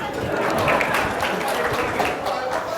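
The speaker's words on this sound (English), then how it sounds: "Shall we clap for the Xers?" A conference audience claps for Generation X attendees, a busy mix of hand claps and crowd noise running throughout, with voices talking and cheering amid the applause.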